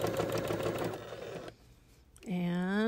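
A sewing machine stitching a quarter-inch seam on a flower garden quilt block. Its motor spins up with a rising whine after speech and a short quiet pause.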